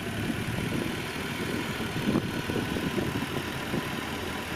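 A Toyota MK3 Supra's turbocharged 7M-GTE engine idles steadily nearby, a continuous low rumble with a smooth, even tone and no revving.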